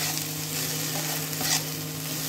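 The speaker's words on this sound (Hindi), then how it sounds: "इसे 1 मिनट तक मैं इसी में चलाऊंगी।" Khichdi being stirred in a frying pan over heat, a steady soft scraping and gentle sizzle running continuously at close range with no talk.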